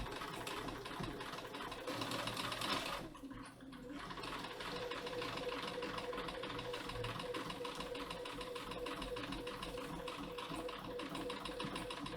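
Sewing machine running steadily for top stitching at about 1 mm along a curve on a Simplicity 8427 garment, a continuous close mechanical whir with a brief pause near the start, no talk.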